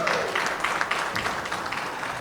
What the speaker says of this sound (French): quoi de plus normal que d'applaudir justement une fois de plus pour CNSS IMO